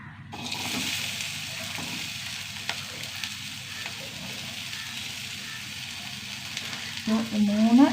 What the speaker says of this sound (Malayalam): ചെറിയ സവാള പൊടിപൊടിയായി അരിഞ്ഞത് കേട്ടോ